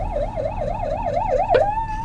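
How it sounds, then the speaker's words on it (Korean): An ambulance siren wails on the road beside a moving Hyundai Sonata, its rapid rising and falling tone steady and prominent before shifting to a sustained pitch, with car noise rumbling underneath. "왼쪽 구급차"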